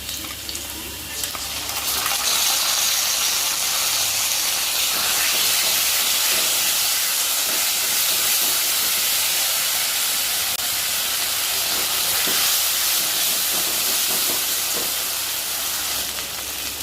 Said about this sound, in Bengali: আলুগুলো একটু লাল লাল করে ভেজে নিলাম, নিয়ে এর মধ্যে মশলাটা দিয়ে দেবো।